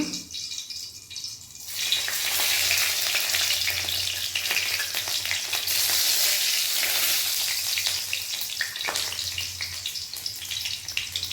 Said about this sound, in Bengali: তেলটা গরম হয়ে গেছে, একটু আমি জিরে দিয়ে দিই, লঙ্কা